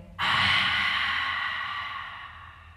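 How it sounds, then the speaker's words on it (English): One deep breath during a family yoga session, a long close airy exhale that begins sharply and fades slowly, with no voice. "We take a big breath in."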